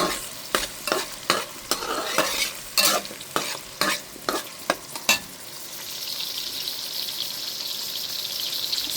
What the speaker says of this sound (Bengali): পেঁয়াজটা দিয়ে দিলাম, বেশ খানিকটাই পেঁয়াজ।